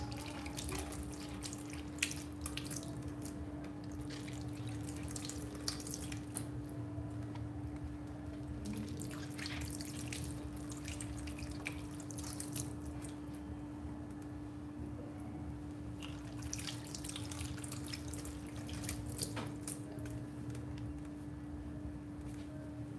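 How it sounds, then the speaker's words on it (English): Tap water runs continuously over onions and coriander being washed in a kitchen sink, a faint, steady splashing beneath a constant low hum. "So I'll wash my veggies that you're going to use."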